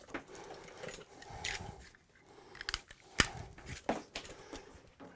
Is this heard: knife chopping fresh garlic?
no